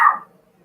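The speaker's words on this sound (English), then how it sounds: "I have never heard your dog bark, Mediocre." A single short dog bark or yip, fairly loud and close, in a quiet room, fading quickly into faint background noise with no talking.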